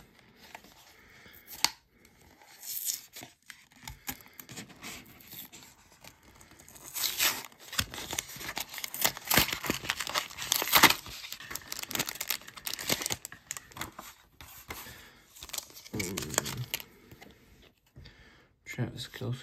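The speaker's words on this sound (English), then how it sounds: "we're opening up these packs from Dollar General Panini Score" Foil packs of Panini Score football cards bought at Dollar General are torn open, bursts of ripping and crinkling wrapper scattered through the stretch, with a voice talking over parts of it.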